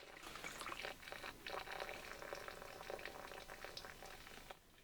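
Water running and trickling steadily through a GreenStalk vertical planter during slow watering, a continuous close splashing flow that fades slightly at the end.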